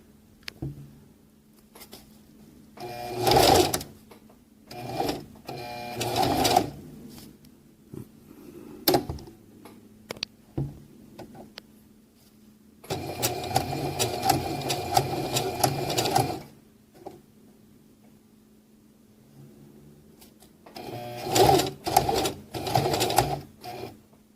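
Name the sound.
sewing machine stitching a drawstring pouch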